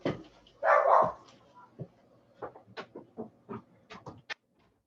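A service dog barks in a classroom setting, with a strong burst early on followed by a series of shorter, repeated barks, moderately near and amid the room's background.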